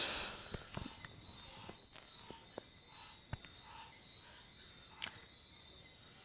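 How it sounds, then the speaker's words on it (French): Steady high crickets chirping through a quiet night, with a few faint clicks and soft rustles scattered throughout. "je suis en train de tourner la nuit. Alors, il y a les petits grillons."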